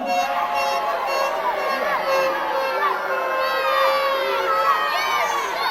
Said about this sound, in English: Round of applause for our loser.